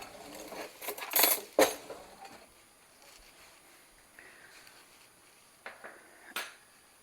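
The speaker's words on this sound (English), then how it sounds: "Plate to put these on, and I probably need a fork." A plate and fork are handled in a home kitchen, producing a couple of close bright clinks and scrapes followed by a few fainter taps against a quiet background.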